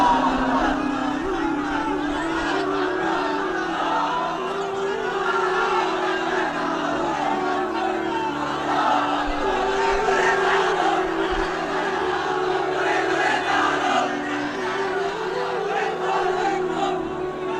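A large crowd at a religious gathering roars slogans in unison, a steady massed chant of voices that fills the space without pause.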